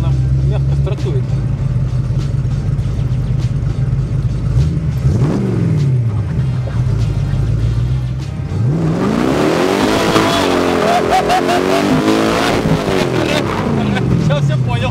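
A homemade Shelby Cobra replica with a 5.7-litre engine starts and pulls away, its loud low rumble rising into revving acceleration with pitch sweeps, heard close up alongside people talking in the car.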